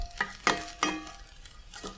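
Mushrooms and tempeh cooking in a pan with salt, quiet scraping stirs at irregular intervals over a faint sizzle, with no voices.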